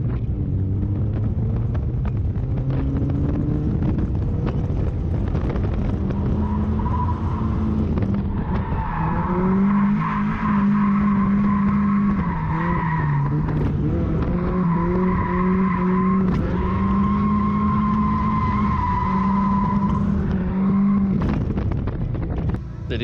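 A race car's tires squeal and skid continuously during a driving run at a season finale event, loud and wavering with engine roar and wind buffeting, no speech.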